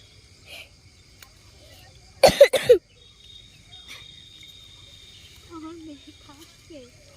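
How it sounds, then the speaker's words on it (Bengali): Two quick, harsh coughs in close succession from someone feeling unwell, outdoors while picking vegetables, with faint insect chirring and quiet surroundings before and after. "কাশি হচ্ছে"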